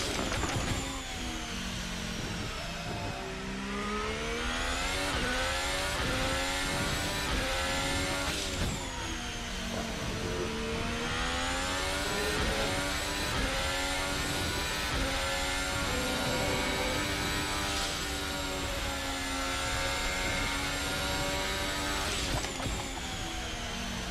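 Formula Hybrid race car engine in an RSS racing video game at Kyalami, a loud continuous high-revving whine that climbs and drops with gear changes over about twenty seconds, with no voices.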